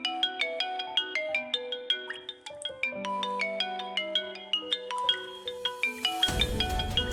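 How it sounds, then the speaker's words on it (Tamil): A phone ringtone for an incoming call plays a bright melodic electronic tune with repeating plucked notes, loud and alone, with a burst of noise at the end. "சாமுண்டீஸ்வரத்தை கால் பண்றாங்க"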